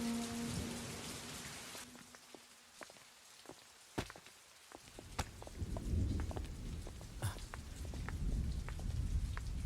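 Steady rain pours onto surfaces outdoors, a continuous close hiss broken by sharper drops and taps, with soft tones fading out early on.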